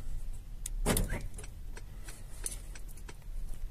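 A Starline alarm arms on a 2018 Mercedes Vito van with a quiet click and a brief electronic chirp, then several soft ticks spread over a few seconds, close by and with no speech.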